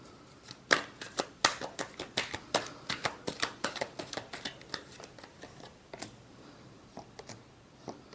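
Tarot cards being shuffled by hand in a quiet room: a run of crisp, close flicks and snaps, dense at first, then thinning into sparser taps toward the end.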